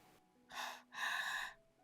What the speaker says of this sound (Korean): 전화기 너머로 어머니 거친 숨소리가 들렸습니다